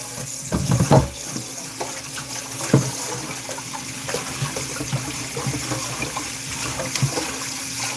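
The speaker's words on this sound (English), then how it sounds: "get some water going" Water running from a kitchen tap into a sink while preparing chicken foot soup: a steady splashing rush, moderately loud and close, broken by a few clunks and knocks of handling near the start.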